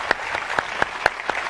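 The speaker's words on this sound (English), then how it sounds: "A big applause for Mr. Schjeldahl" Audience applause at an art talk with Steve Martin at The New Yorker Festival, a steady wash of clapping with sharper individual claps standing out at irregular moments, with no speech over it.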